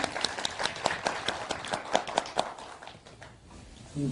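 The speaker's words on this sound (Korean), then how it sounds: "큰 박수 부탁드립니다." Scattered applause from a small audience at a year-end constitutional amendment forum, crisp individual claps that thin out and fade over a few seconds, with no voices.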